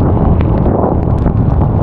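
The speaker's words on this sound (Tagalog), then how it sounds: "Ang lakas na ng hangin." Strong wind buffets the microphone on a foggy, rainy mountain road at Marilaque near Infanta, Quezon, a loud continuous low roar without pause.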